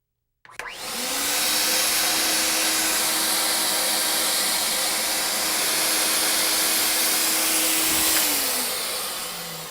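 A Rotobrush duct cleaning machine motor switches on with a thump, roars loud and steady at close range for several seconds, then begins winding down.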